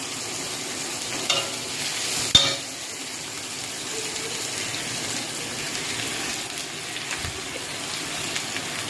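Bay leaves and a cinnamon stick frying in hot oil for chicken ghugni, a steady sizzle with a couple of sharper spits and pops near the start, heard alone without talk.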